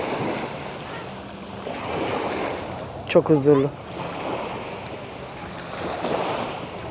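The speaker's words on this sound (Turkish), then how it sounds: "Denizi dinleyin istedim, sadece dalgaları." Sea waves wash steadily against an island shore, a continuous broad surf with wind across the microphone, while a voice speaks briefly in the middle.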